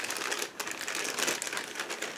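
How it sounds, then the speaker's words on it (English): A loose plastic bag from a 1/35 scale Tiger Model IDF Nagmachon kit, holding suspension parts and road wheels, crinkles steadily up close with dense, continuous rustling and small crackles throughout. "plastic bag, which wasn't closed surprisingly"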